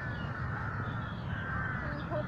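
Crows cawing at sunset in an open outdoor area, harsh calls rising from a steady murmur of background noise, moderately distant and fairly faint.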